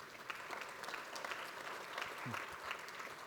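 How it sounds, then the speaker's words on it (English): Audience at a real estate symposium applauds steadily throughout, a dense even wash of clapping at moderate level with faint crowd murmur and a brief low voice underneath. "Big round of applause to thank you to our sponsors."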